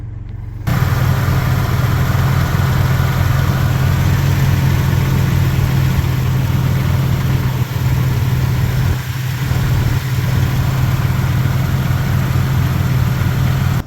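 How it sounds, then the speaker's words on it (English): A car engine starts up and settles into a loud, steady idle, humming continuously at close range with a deep, even rumble. "in case you can't hear me with the engine running"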